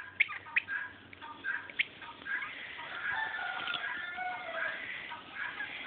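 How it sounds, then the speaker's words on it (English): A rooster crows and clucks nearby in snow, with a few sharp clicks at the start and muffled outdoor background. "Here's a rooster."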